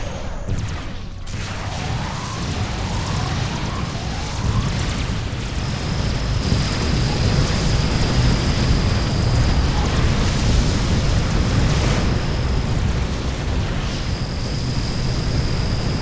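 Railguns fire during a space battle in the strategy game Sword of the Stars: a loud, continuous rumbling roar with repeated high, thin whining tones layered over it, with no voices.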